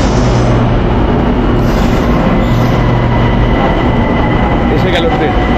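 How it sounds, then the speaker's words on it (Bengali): A Bangkok BTS Skytrain pulls into an elevated station platform, a loud, steady rumble of wheels and car noise filling the scene, with a brief higher squeal near the end. "এসে গেল ট্রেন।"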